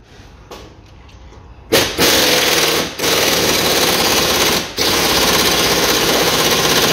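A power impact wrench tightens the crankshaft pulley bolt on a Daewoo car, loud rattling bursts after a quiet start, running nearly continuously with two short breaks.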